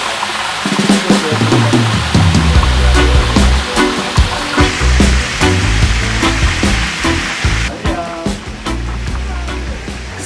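Whole lobster sizzling and popping loudly over an open fire at a Hellshire Beach seafood spot in Jamaica, a dense continuous crackle and hiss with sharp pops throughout, under some background voices.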